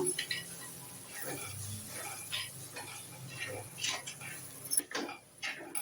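A spoon stirs four spoonfuls of chilli powder into oil in a pan for egg paniyaram kuzhambu, giving light, intermittent scrapes and metallic clinks, fairly faint and close.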